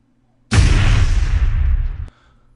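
Explosion effect playing from an exported After Effects video, a sudden loud booming burst that rumbles and decays for about a second and a half before cutting off.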